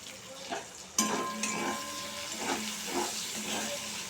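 Chopped onion and tomato fry in a pan with a steady close sizzle and hiss, broken by a few soft scrapes and clinks as the mixture is stirred.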